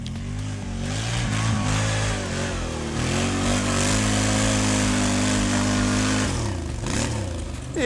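An ATV engine revs hard and steadily while climbing a sand slope, its pitch rising and falling with bursts of throttle, close and loud throughout.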